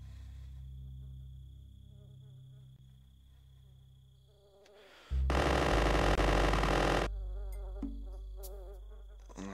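A swarm of flies buzzes in the Worms video game, a loud sustained drone that swells for a couple of seconds amid game music and sound effects, with quieter buzzing before and after.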